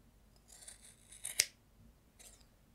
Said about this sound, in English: I'm going to cut off all this here.